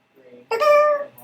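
A single cartoonish cat meow from a game jam video game, drawn out and clear over faint background murmur, with voices talking nearby.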